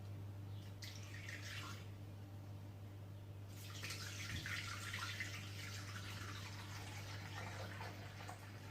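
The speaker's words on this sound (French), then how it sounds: "il va falloir que j'ajoute 400 g d'eau" Water pours into a Thermomix bowl in a faint, steady trickle for several seconds, with a constant low electrical hum underneath.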